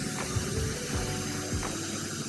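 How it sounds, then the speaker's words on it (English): A ratchet clicks in short, close bursts while backing out the bolt that holds an e-bike fender, its pawl ticking several times over a steady mechanical background. "what I'm going to do is have to remove this bolt holding my fender"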